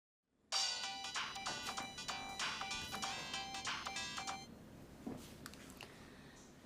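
A phone ringtone plays a repeated electronic melody for about four seconds, loud and close, then stops, leaving faint room noise and a soft knock.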